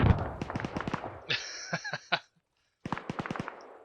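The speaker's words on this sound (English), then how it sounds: "I mean, you can hear explosions." AGS grenade launcher fire and explosions in the ArmA 3 military game, heard as bursts of rapid, fairly close thumps with short pauses between volleys, alongside some sharper crackling.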